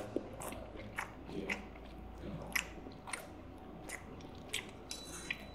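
Close-up bites and chewing of spicy Korean instant noodles, with soft wet crunches and clicks recurring every half second or so over quiet room noise; no talking.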